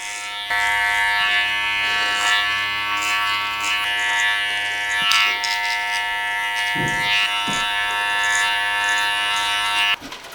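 Electric hair clippers with a number 2 guard buzz steadily and loudly through a long wavy-to-short curly haircut, running nearly the whole time with brief bumps as they pass through the hair.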